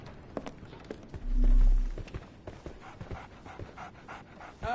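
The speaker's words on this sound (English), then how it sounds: "So, Barnes has a dog now." A dog pants in quick, rhythmic breaths close by within a game scene, interrupted by a brief low tone and light tapping footsteps.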